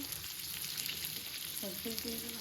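Chicken pieces fry in oil in a deep kadai, giving a steady close bubbling sizzle throughout, with a short tonal sound near the end.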